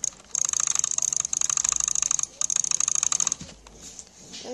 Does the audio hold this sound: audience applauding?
no